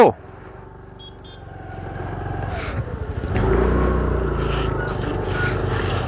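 A car drives along a road at the India–Nepal border and slows to pull over and park, its engine rumbling steadily and growing louder midway, with people talking over it.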